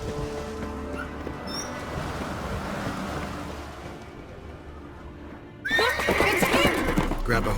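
A horse whinnies and snorts in The Witcher 3 on Skellige, followed by hooves and splashing, with surf and wind beneath and in-game speech.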